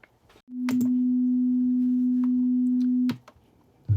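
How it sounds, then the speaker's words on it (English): A steady pure test tone from a Denon DCD-700 CD player hums for about two and a half seconds, bracketed by a few clicks, in an otherwise quiet room. "This starts with some test tones, so we'll be hearing those"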